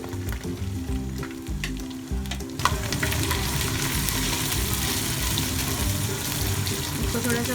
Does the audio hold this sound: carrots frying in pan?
yes